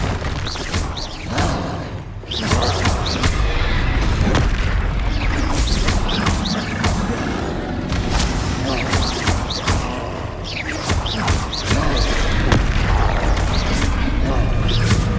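Confringo blasting spells exploding in the game Hogwarts Legacy, repeated booming blasts and thuds over about fifteen seconds, with a player shouting spell names throughout.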